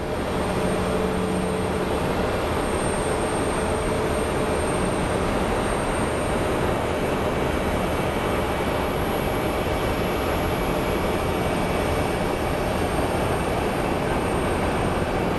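A Delta Connection regional airliner arriving from Durango at Phoenix Sky Harbor gives off a loud, continuous jet roar with a steady whine, and no talk over it.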